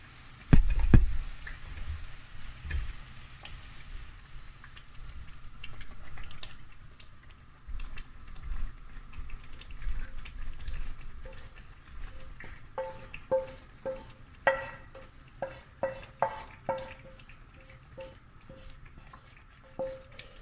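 Onions being stirred into ndolé in a cooking pot, with soft scraping and stirring, wet liquid movement, and a run of light knocks and taps of the utensil against the pot toward the end, all fairly faint.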